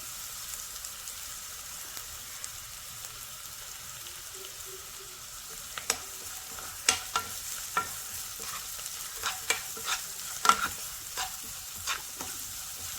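Curry leaves dropped into hot oil in a pan, a low steady sizzle joined by sharper pops and crackles that grow busier toward the end, with no talking.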